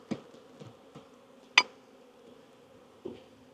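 Honey bees buzz low and steady around an open hive box during a brood frame inspection, with a few soft knocks and one sharp click of frames and tools cutting through the hum.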